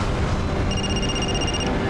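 A telephone rings once, a short electronic tone lasting about a second over a dense, noisy background, with no talk.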